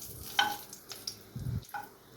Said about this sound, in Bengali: এরপরে তেলে দিয়ে দিলাম গোটা গরম মশলা